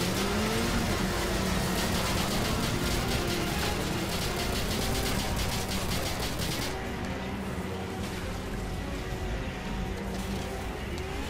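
A car engine revs and pulls hard in the video game Call of Duty: Modern Warfare 2. The loud, continuous roar carries on throughout, with rapid crackling bursts, likely gunfire, in the first half.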